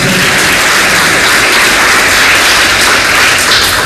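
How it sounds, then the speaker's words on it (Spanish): A church congregation applauds in a loud, dense, continuous wash of clapping that fills the room without pause. "¿Cuánto le dan un aplauso a Dios"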